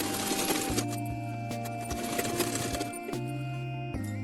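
An electric sewing machine stitches a cuff onto a puff sleeve in short, rapid bursts of whirring and needle clatter. Brief pauses separate the runs, and the whole thing sounds close and moderately quiet.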